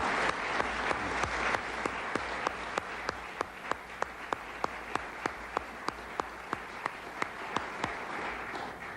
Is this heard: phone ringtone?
no